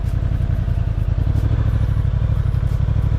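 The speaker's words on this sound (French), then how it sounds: "C'est une moto vraiment agréable à rouler." A new motorcycle still being broken in rumbles steadily while riding on the road at low revs, a close, continuous pulsing engine note with wind noise and no talking.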